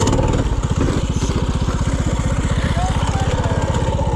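Mini bike engine with its muffler fallen off runs close by, a loud, raw and rapid popping exhaust beat that keeps an even rhythm throughout, with no talk over it.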